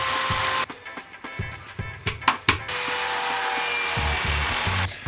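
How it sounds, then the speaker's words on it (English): Power saw cutting wood at 30-degree angles for a DIY birdfeeder, with a few knocks and handling sounds first, then a loud steady cutting run that holds for several seconds. "So now I'm going to cut the 30-degree angles."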